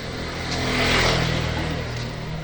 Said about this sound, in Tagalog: Din, may motor.